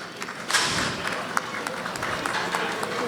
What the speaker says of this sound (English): May we request you to stand and give a rousing applause to our ministers